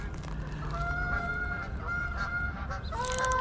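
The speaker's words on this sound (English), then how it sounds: "Whoa, those geese came right over." Geese honk loudly overhead in repeated nasal calls, several birds overlapping as they pass close by.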